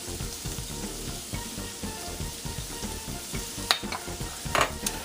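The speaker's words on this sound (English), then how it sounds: "we're just going to sweat these and get these cooked down just a little bit" Carrots, celery and onion sweat in a hot pan for stuffing, giving a steady close sizzle with occasional light stirring clicks and scrapes, and no voices.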